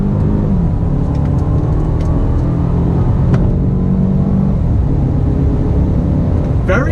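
A 2019 Mercedes-Benz A220 with a dual-clutch gearbox accelerates in second gear, a steady, smooth engine hum rising gently under road and cabin rumble, heard from inside the car.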